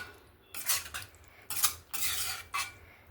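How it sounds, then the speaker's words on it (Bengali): A spoon clinks and scrapes in a pan as peas, fried potatoes and paneer are stirred into gravy, with four or five clear bursts of metallic stirring separated by brief pauses and nobody talking. "দিয়ে গ্রেভির সঙ্গে ভালো করে মিক্স করে নেব"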